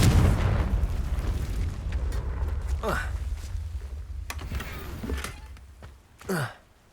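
Confringo spell blasting rocks in Hogwarts Legacy gameplay: a loud booming explosion with rumbling debris that fades over several seconds, followed by a few smaller whooshing effects.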